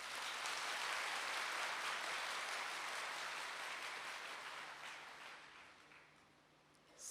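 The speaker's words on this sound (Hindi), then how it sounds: "अपने लिए ताली बजाओ" A seated audience at a spiritual talk claps together in a loud, dense burst of applause that holds steady, then slowly thins and fades toward the end.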